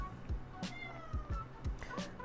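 A cat meows faintly several times, mixed with low soft thumps and background noise, in a room where someone is doing an acrylic painting.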